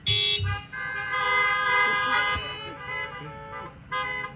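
Several car horns honk outside a church, sustained and overlapping blasts sounding at moderate distance, with a brief lull before another burst near the end.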